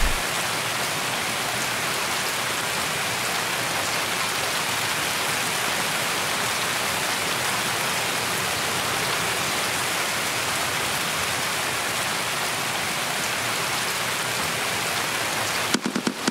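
Steady, dense rain pours throughout a match of the video game Escape From Tarkov, a loud continuous hiss with no talk over it, ending in a brief clatter.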